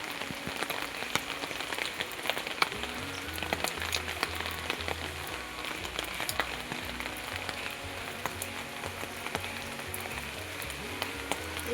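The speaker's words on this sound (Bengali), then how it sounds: "হালকা বলতে মাঝারি বৃষ্টি হচ্ছে" Moderate rain falls on an umbrella in a steady, dense patter that continues evenly throughout, close and unbroken, with no voices.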